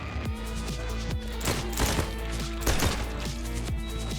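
Gunfire from a weapon in the video game Jackal, set in Miami, a rapid string of sharp shots firing in close succession over a steady background music bed.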